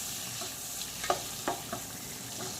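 Ratanjot bark dropped into melted butter over a low flame for Kashmiri rogan chicken, giving a soft steady sizzle with a few light stirring clinks and scrapes, close and fairly quiet, no talking.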